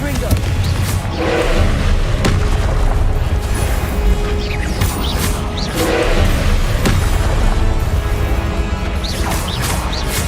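Repeated Confringo fire-spell blasts in Hogwarts Legacy, loud crashing bursts that land roughly every couple of seconds over a constant roar of combat noise and game music.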